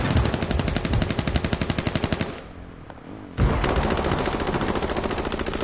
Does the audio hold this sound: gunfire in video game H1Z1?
yes